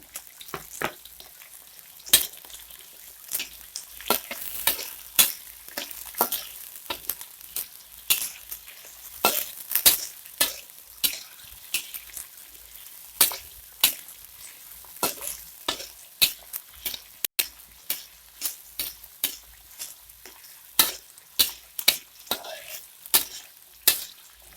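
Sliced red chilies and bird's eye chilies stir-fried in a wok for a prawn and water spinach dish in tauco sauce, heard as a run of rapid, sharp scraping and clanking stirring strokes over a faint sizzle.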